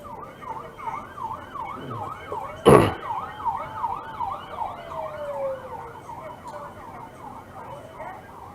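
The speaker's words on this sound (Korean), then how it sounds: "삐어삐어 소리 들려서 옆으로 피해줬어요" An emergency vehicle on a highway through a construction zone sounds its siren in rapid rising-and-falling wails, heard moderately loud from inside a car over road rumble, with one sharp thump midway.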